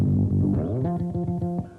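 A short electric bass lick: a run of plucked notes climbing and settling, a little sour against the key, played alone and fairly close.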